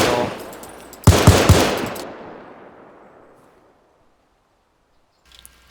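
A burst of automatic gunfire in IFA3WarMod, several loud rapid shots fired close by, followed by a long echoing decay that fades into near silence before a faint clatter at the end.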